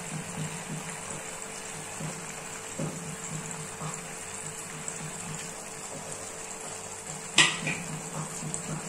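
Pabda fish sizzle and fry in a pan with chilies while being stirred, a steady hiss with soft scraping and clinks from the utensil and one sharp metallic clank near the end.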